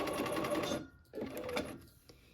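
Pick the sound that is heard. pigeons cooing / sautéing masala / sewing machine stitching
sewing machine stitching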